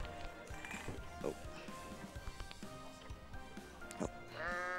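Goat bleats from the game I Am Bread come in several short bursts and one longer cry at the end, set over a busy bed of game sounds and a voice in the background.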